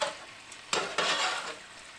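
Shrimp, chicken and noodles in a Cajun Alfredo pasta are tossed in a pan with a faint sizzle underneath, giving two quick scraping stirs close by before the sound trails off.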